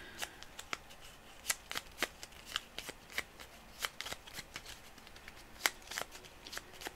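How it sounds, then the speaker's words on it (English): Cards are shuffled repeatedly, producing a steady series of crisp riffling snaps and flicks, close and fairly quiet. "So I'll shuffle that deck."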